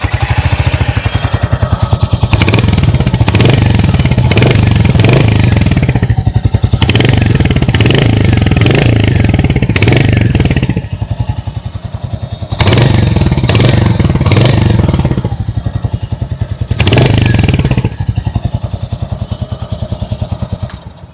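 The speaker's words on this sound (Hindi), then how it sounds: "आइए अब सुन लेते हैं इस बाइक की एग्जॉस्ट नोट।" Royal Enfield Hunter 350 single-cylinder motorcycle, 2026 model, heard up close as its exhaust idles with a steady thump and is revved in repeated blips, with brief dips between bursts and no talking.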